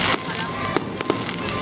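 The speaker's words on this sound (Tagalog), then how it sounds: "fireworks, preo. Fireworks." A fireworks show at Enchanted Kingdom theme park, with a few sharp, booming bursts over a dense crowd murmur and nearby talk.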